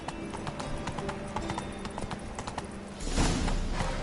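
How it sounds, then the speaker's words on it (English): Witcher 3 video game horse galloping, its hooves clip-clopping in a quick steady rhythm close by, joined by a louder whooshing rush for the final second. "Run, Roach"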